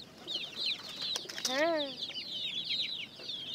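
White chickens cluck and chatter continuously at a Bangladeshi farm, nearby and moderately loud, while a person briefly speaks partway through.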